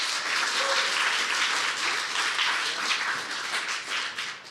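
Sustained audience applause at a Denver Startup Week talk, a dense, steady wash of many hands clapping loudly throughout, tapering slightly toward the end, with no voices over it.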